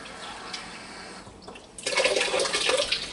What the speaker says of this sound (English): now then I'm just going to put some water in this